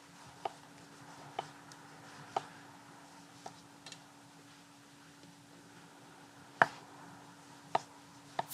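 Sharp knife slicing ripe tomatoes on a board outdoors, a slow, irregular series of distinct crisp cuts with quiet pauses between, close and fairly soft, over faint background hum and wind.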